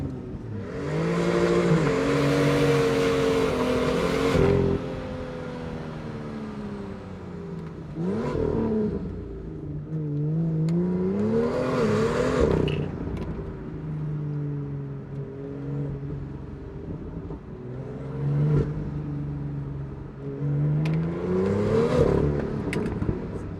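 A BMW in Sports Plus mode revs hard, its engine note climbing and falling in several bursts of acceleration, loud and close, with whirring and no speech over the top.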